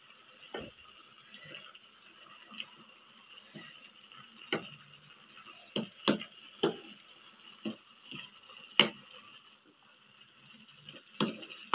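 Chayote sautéed with oyster sauce is stirred in a pan, giving soft scraping clinks and utensil knocks at irregular intervals over a faint background sizzle.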